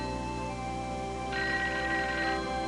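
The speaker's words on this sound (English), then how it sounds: "Oh, the phone." A telephone rings in a 1988 animated TV episode, a bright electronic trill that starts partway through over a steady musical background, with no one speaking.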